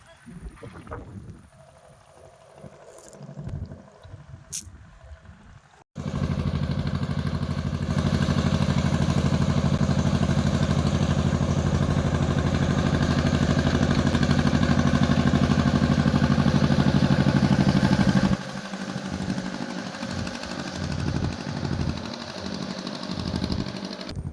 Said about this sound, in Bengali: ওই বোট আসছে বোটটা চলে যায়